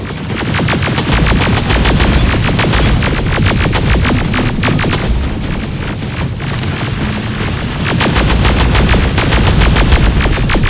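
Rapid automatic gunfire in the Terminator: Resistance video game, dense bursts of close, loud shots rattling almost continuously, with a brief slackening near the middle before another sustained volley.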